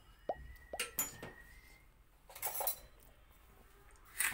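A glass cup handled on a kitchen counter: a few sharp, ringing clinks and taps close by, then brief knocks and a faint scrape in a quiet room.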